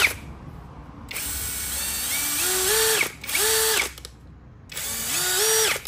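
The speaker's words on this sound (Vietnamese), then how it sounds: "con này là con khoan 13 ly các bác nhé" A 13 mm three-mode power drill runs in three separate bursts, each spinning up with a rising whine, then holding a steady high motor hum before cutting off, close up with short quiet gaps between.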